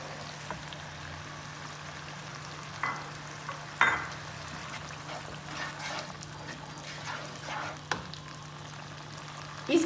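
Red chili, turmeric, whole coriander and cumin frying in a pan, a low soft sizzle with occasional spoon scrapes and clinks against the pot, quiet and close, no talk.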